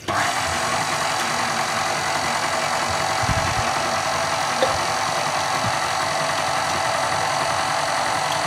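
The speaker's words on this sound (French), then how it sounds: "Donc je vais mettre en route le robot petite vitesse" A stand mixer runs at low speed, kneading homemade chili bread dough with water and yeast, giving a steady, continuous mechanical hum and whir with faint knocking throughout.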